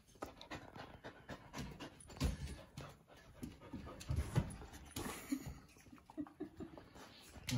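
A small Golden-doodle puppy pants rapidly and whimpers softly, close by, with brief faint human voices in the background.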